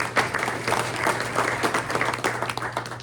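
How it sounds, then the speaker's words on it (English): Audience at a real estate press luncheon clapping for event sponsors, a lively patter of hands swelling and dipping in waves over a steady low hum in the room. "Let's give them a round of applause."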